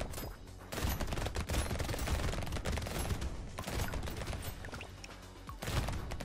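A red shotgun and SMGs fire in rapid, dense bursts during a Danger 5 Hunter run in Brotato, a continuous loud barrage of overlapping gunshots and impacts.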